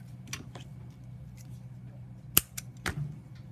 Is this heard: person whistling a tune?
no